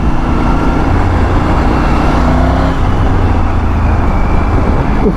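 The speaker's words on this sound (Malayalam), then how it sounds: "ഇതിൻ്റെ ഫയറിംഗ് ഓർഡർ മറ്റേ സാധാ 3 സിലിണ്ടർ വല്ല 1 2 3 എന്നല്ല, 1 3 2 എന്നാണ്. അതുകൊണ്ട് ശബ്ദത്തിലൊക്കെ ചെറിയൊരു വ്യത്യാസമുണ്ട്." Triumph Tiger 900 GT three-cylinder engine with a 1-3-2 firing order, running at a steady, loud drone with continuous low rumble throughout, no speech.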